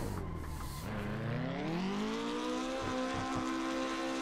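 Street car engine revving hard during a clutch-kick drift, the note climbing steadily as the revs rise, with a few short tyre chirps near the end, loud and close and free of speech.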